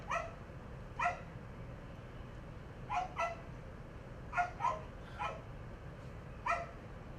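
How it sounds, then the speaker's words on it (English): A dog barks in short excited bursts, single and doubled yips spaced across the stretch, moderately close over a steady low background hiss. "if you grab your leash, you might hear this kind of bark"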